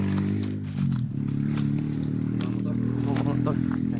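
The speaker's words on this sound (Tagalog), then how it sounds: "Yan yung motor koy." A motorcycle engine idling nearby with a steady, loud, low hum and a few clatters and scrapes over it.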